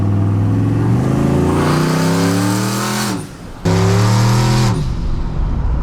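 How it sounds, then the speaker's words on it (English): A loud turbocharged street truck engine revs hard at full throttle, pitch climbing steadily, briefly drops off, then surges again before easing back. "I want to get full throttle on it"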